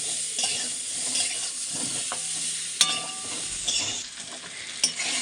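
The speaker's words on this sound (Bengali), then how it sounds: "আর এখানে আলুটা ভেজে নিচ্ছি।" Potatoes sizzle and fry in a pan while being stirred, a steady hiss with occasional scraping clinks of the spatula against the pan, close and continuous without talk.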